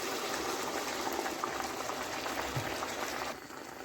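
Water splashes and bubbles in a steady liquid hiss, like boiling water being poured in while making a cheesecake, fairly faint and continuous, dropping quieter just before the end, with no talking.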